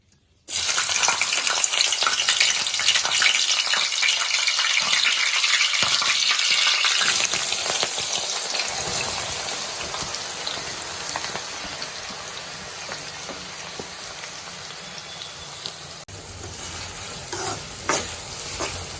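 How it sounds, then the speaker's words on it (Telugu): Green chillies and chopped onions hitting hot oil for a prawn and drumstick curry, a loud, dense sizzle that bursts up at once, then gradually settles into a softer, steady frying crackle. "మనం కట్ చేసి పెట్టుకున్న పచ్చిమిర్చి, ఆనియన్స్ వేసుకుందాం."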